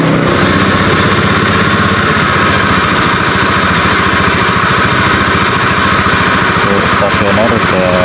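A Honda Scoopy scooter engine with a fault that makes it sputter and stall when cold runs at a loud, steady idle up close, a continuous throbbing drone that holds for the whole stretch.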